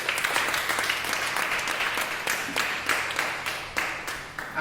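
Church congregation clapping during a Portuguese-language worship service, a close, loud burst of many hands with uneven swells and dips, continuing without talk.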